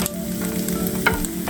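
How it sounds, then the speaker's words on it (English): Tofu browning in a stainless steel pan. Steady close sizzling and frying with a soft stir or scrape near the end, and no talking. "keep on browning for a couple more minutes"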